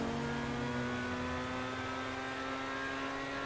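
Loud, steady car engine drone from a fast car in a GTA video game, holding a constant revving hum throughout with no talk over it.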